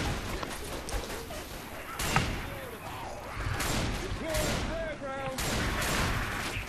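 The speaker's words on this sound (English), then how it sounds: "Oh shit, they're frag rounds." Frag rounds fire in Left 4 Dead 2, a steady stream of gunfire with repeated sharp shots over a busy mix of game noise and chatter.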